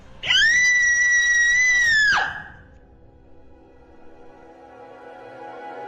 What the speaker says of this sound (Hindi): वो डर से कांप गई और जोर से चीखने लगी।